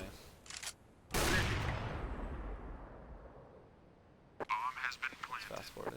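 Gunfire cracks out in a first-person shooter video game, a couple of quick sharp shots followed by a loud blast that rings out and decays, then another rapid burst of fire near the end.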